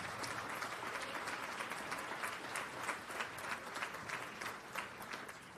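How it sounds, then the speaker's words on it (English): Quiet, steady audience applause for volunteers at the closing ceremonies of the 2024 USA Jigsaw Nationals, a continuous patter of many hands heard from a distance. "Give them a round of applause"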